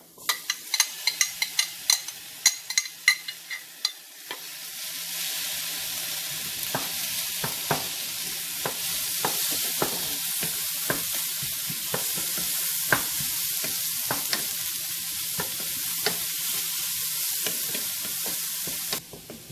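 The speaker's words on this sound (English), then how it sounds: "now I am going to add tomato" Tomato sizzles as it fries in a pan for spicy crab masala, a loud continuous hiss after a few opening clatters, with scattered spatula scrapes and taps from stirring throughout and no talking.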